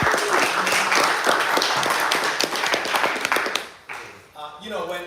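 Crowd applause at a live business showcase, thick clapping sustained for several seconds before tapering off as a speaker's voice comes in.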